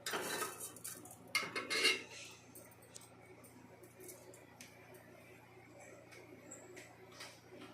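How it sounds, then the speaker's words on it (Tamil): Mustard seeds crackling in hot oil, a few sharp clatters early, then scattered small pops and ticks continuing quietly. "கடுகு வெடிச்சதும்"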